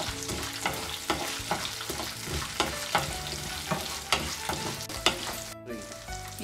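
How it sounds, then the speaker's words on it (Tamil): Dried turkey berries and garlic sautéing in hot oil, a steady close crackle and sizzle with regular rhythmic scrapes of a spoon against the pan, no voices. "சுண்டக்காய் வத்தலை சேர்த்துட்டு இந்த எண்ணெயிலே நல்லா வதக்கணும்"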